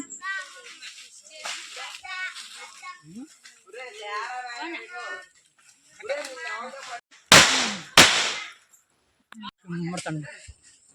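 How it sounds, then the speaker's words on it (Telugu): Children set off firecrackers nearby during the Nagula Chavithi festival; two loud, sharp bangs burst out in quick succession amid ongoing talking voices and brief quieter stretches. "ఇక పక్కన పిల్లలు క్రాకర్స్ కాల్చుకుంటున్నారు"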